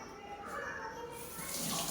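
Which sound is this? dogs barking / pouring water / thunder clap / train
pouring water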